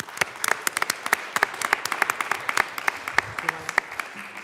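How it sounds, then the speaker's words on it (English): Scattered, distinct claps ring out in the Colorado House of Representatives chamber, an uneven ripple of applause of moderate loudness that thins out near the end. "They'll probably hear your applause wherever they are."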